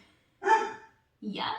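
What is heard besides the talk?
dog barking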